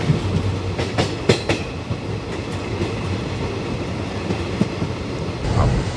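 The 19223 Sabarmati-Jammu Tawi Express, hauled by a diesel locomotive, rolls along the rails near Abu Road with a steady low rumble and sharp clickety-clack wheel beats over rail joints, all close and loud with no talk.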